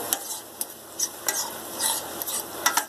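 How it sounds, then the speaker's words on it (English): Eggs scrambled in a pan on an electric stove: a soft, continuous sizzle with quick scraping strokes of a utensil against the pan, close by and with no talk. "This is how I like my eggs scrambled."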